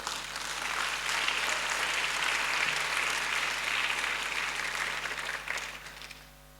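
A congregation claps together at a Sunday church service, a dense, sustained wash of applause that swells, holds for several seconds, then fades out near the end.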